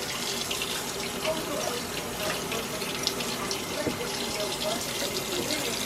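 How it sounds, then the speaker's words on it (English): Running tap water splashes steadily into a sink while green onion and cilantro are rinsed under it, a continuous close hiss and patter with a voice speaking over it. "First, let's rinse the green onion and cilantro"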